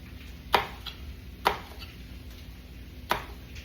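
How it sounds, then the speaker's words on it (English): A knife chops vegetables for potatoes with peppers in a rustic chop on a cutting board: three sharp, close knocks at uneven intervals, with a quiet kitchen hum between them. "I'm going to chop this up."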